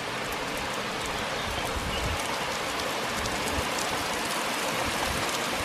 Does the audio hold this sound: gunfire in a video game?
no